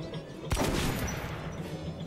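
A single sharp gunshot cracks out at a shooting range, then a long noisy echo that trails off in an open space.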